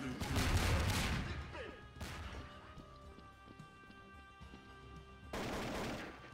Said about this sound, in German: Wer hat da geschossen mit der Shotgun?